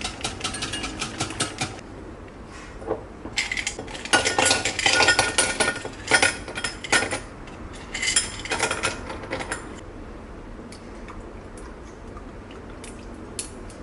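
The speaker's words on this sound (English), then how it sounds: "So we're going to whisk it until it becomes a cream." Metal whisk rattling rapidly in a bowl, beating a dalgona coffee mixture into a cream for dalgona chocolate, in loud clattering bursts that stop and start, close up with no talking.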